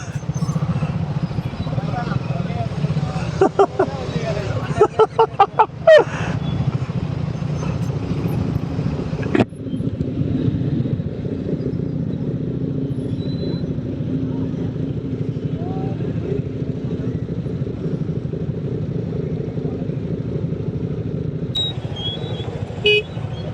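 Heavy road traffic on a congested route during a motorcycle ride, with a constant engine rumble, bursts of rapid horn toots and a sharp honk, while a rider talks over the noise.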